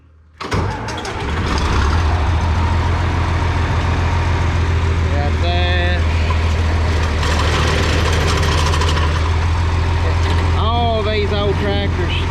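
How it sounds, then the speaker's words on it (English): An old farm tractor engine cranks and catches within the first second or two, then idles with a steady, loud low chatter, with brief clanks and squeaks on top. "These old tractors chatter just a little bit when you first crank them up."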